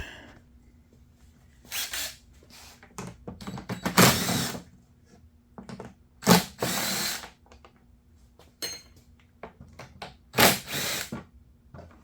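Ratchet with a 10mm socket working on a 2021 Firman W2000i generator that has no spark, close bursts of rapid clicking and turning with pauses and small handling noises between them.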